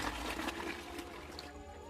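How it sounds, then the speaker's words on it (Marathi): Water poured into a feeder of chicken feed on a village poultry farm, a steady splashing trickle that runs continuously and close by, loud and unbroken from start to finish. "तर आपण याच्यामध्ये पाणी टाकू."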